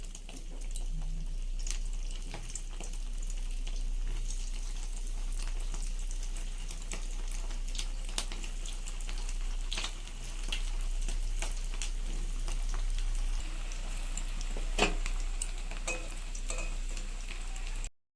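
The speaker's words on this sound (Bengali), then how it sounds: "এগুলো আমি এবার এক এক করে ভেজে নেব" Fish roe fritters deep-fry in hot oil, a dense, steady crackling sizzle that carries on unbroken, close and fairly loud, with occasional sharper pops and clinks of handling but no voices.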